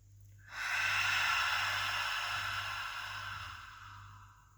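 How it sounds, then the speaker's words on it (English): A single long, slow inhalation drawn close to the mic, with a soft airy rush that swells quickly and then tapers over a few seconds against a quiet background. "take a deep breath in."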